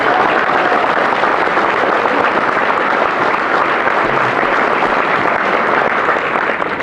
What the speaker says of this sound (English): he got more applause than I did